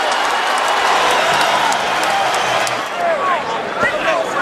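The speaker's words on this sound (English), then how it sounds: "The crowd is electric." Arena crowd noise at a boxing match between Bernard Hopkins and Karo Murat, a steady loud roar of cheering and chatter that holds throughout with slight swells.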